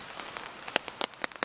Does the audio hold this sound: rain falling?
yes